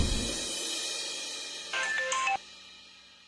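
A mobile phone rings for an incoming call in a Tamil TV serial: a short, bright electronic melody of a few quick tones over a quiet room, then silence.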